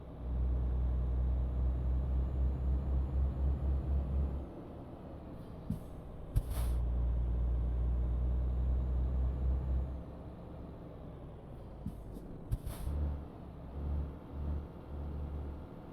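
A heavy truck drives in Euro Truck Simulator 2 with the Promods 2.33 mod, hauling a single trailer: a steady low engine drone that rises and falls, broken by a few sharp hissing air-brake bursts, no talking.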